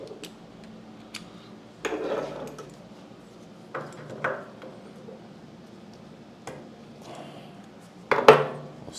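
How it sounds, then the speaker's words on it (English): A wrench working the carburetor bowl nut loose on a Ryobi pressure washer: sparse metallic clicks, taps and scrapes at close range, with a few sharper clanks between quiet gaps and no speech. "Just going to crack this nut loose."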